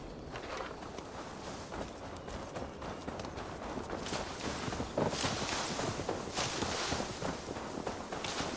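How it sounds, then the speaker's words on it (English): Steady hoofbeats clip-clop at a walking pace in Assassin's Creed Valhalla, beneath a dense, noisy game soundscape of wind and ambient rumble, continuous throughout. "Now to deliver Magni his horse."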